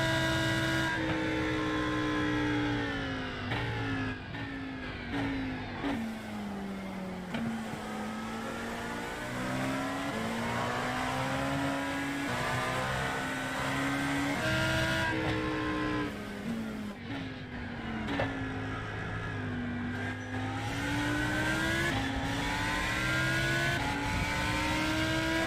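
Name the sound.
Lamborghini race car engine driving in iRacing video game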